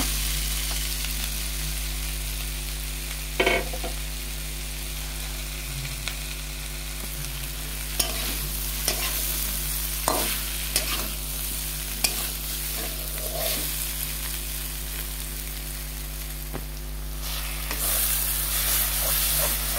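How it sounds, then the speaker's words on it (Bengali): Potatoes and cauliflower frying in oil in a pan with spices, stirred repeatedly: a steady close sizzle runs throughout, broken by scraping, clattering strokes of the spoon against the pan. "এখন ফুলকপির সাথে একসাথে নাড়াচাড়া করে নেব"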